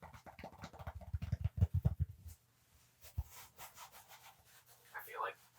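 Fingers scratch and rub across rough-textured hockey jersey fabric in a quick close burst of rasping strokes, then softer intermittent scratches and a tap, intimate and quiet.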